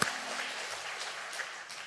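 A church congregation applauds during a Sunday worship service, with steady, moderately faint clapping from many hands that runs evenly throughout, no voices on top.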